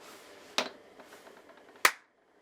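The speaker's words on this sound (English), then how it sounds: "Just try clapping your hands." Two sharp hand claps ring out about a second apart in a quiet room of a former prison, each a crisp isolated crack that dies away quickly with little echo.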